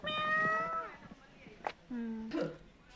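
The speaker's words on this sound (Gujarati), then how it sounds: "મિત્રો આમાં છે બિલાડીઓ." Cats at Rajkot's Pradhyuman Park zoo meow, with a long, drawn-out call near the start followed by shorter, lower meows, heard close and clear.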